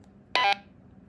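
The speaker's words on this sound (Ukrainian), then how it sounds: "Це звук закінчення передачі." Roger end-of-transmission beep from a Baofeng UV-5R handheld radio: a single short, bright electronic tone lasting about a fifth of a second, loud and clear against a quiet background.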